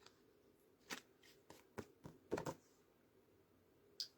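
Quiet, close riffling and snapping of tarot or oracle cards being shuffled during a live psychic reading, in several brief bursts with soft pauses between.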